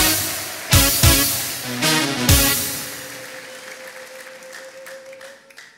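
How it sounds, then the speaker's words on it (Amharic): A church congregation in a hall bursts into several sharp waves of clapping, loud and close at first, then fading to a scattered patter with a lingering sustained tone in the background. "ውጭ ላሉት በዛም በኩል ውጭ ላሉት አጨብጭቡላቸው"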